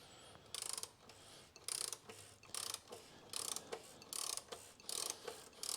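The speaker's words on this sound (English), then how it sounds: "I'm going to start with the oil filter, which is here. 27mm, I've got a socket and a ratchet" Socket and ratchet loosening a 27mm oil filter housing on a 2012 Mini Cooper D 1.6 diesel, a series of quick close clicking strokes repeating steadily, quiet with no talk.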